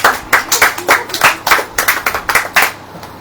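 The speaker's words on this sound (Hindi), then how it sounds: "ताली बजाओ, क्या बात है।" A church congregation claps along during a sermon in rhythmic unison, about a dozen sharp, regular beats close and loud, fading out at the end.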